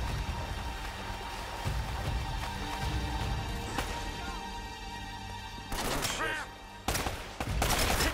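Gunfire in Uncharted: Drake's Fortune crackles in scattered bursts over steady game ambience and music, with a denser volley of shots near the end.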